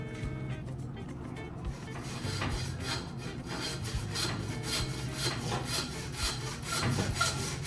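Rhythmic back-and-forth rasp of a hand saw cutting through cartilage between the ribs of a beef chuck primal, close and steady with regular strokes throughout, no talking.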